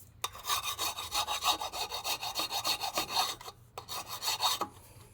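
A brake disc is lightly rubbed down by hand with an abrasive, giving a steady run of soft rasping strokes, close and quiet, with one short pause midway and no voices.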